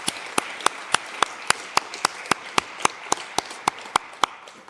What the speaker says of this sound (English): So I think that deserves a round of applause for you all for coming along and really contributing.